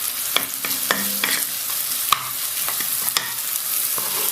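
Mushrooms sweat in a pan for a mushroom cream sauce, giving a constant sizzle broken by repeated light scrapes and taps of a spoon stirring them.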